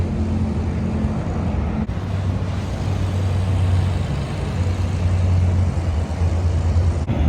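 A delivery truck pulling a trailer rolls into a Texas car dealership lot, a steady low engine drone and rumble holding throughout, close and continuous with no talk over it.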